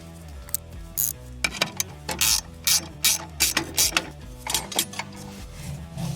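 A ratchet tightens a nut on a DR mower's clutch stabilizer bar, with close, clicking bursts repeating in quick irregular strokes over a quiet background.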